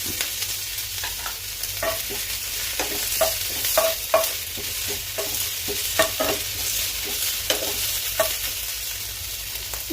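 Garlic and ginger fry in a little oil with a continuous sizzle. A spatula scrapes and taps the pan at a steady rhythm throughout, close and clear.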